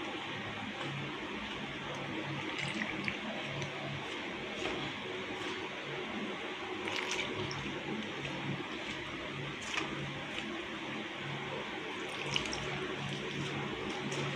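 Water trickles steadily while murukku flour is mixed and kneaded into dough, a continuous close-up wash of liquid and wet mixing noise with occasional small knocks and no talking.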